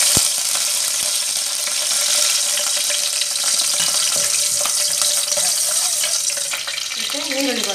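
Mustard seeds crackle and sizzle in hot oil in a pan, a dense, close, continuous popping hiss that lasts the whole stretch with sharp pops scattered throughout.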